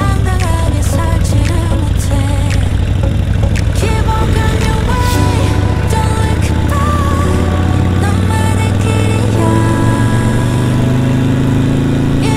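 Harley-Davidson Sportster Roadster motorcycle riding on rural back roads in São Paulo. Its loud, close V-twin rumble stays steady and fills the clip, and the pitch rises toward the end as the bike accelerates.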